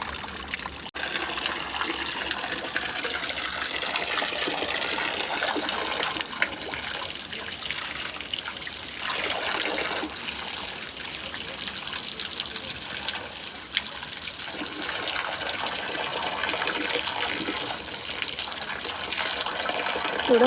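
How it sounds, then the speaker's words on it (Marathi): Water gushing forcefully from a cow-mouth stone spout at a hidden spot in Ratnagiri, Konkan: a continuous, loud, close splashing rush that holds steady for the whole stretch. "थोडं फोर्सने येतं बघा हे पाणी,"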